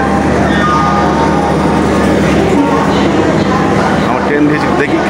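Howrah–Radhikapur express train pulling out of the station, a loud continuous engine drone and rolling rumble with metallic squeals and station bustle, voices mixed in beneath.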